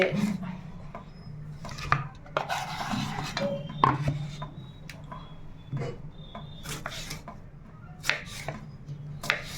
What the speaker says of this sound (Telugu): చక్కగా ఇలాగా ముక్కలు కోసేసుకున్న తర్వాత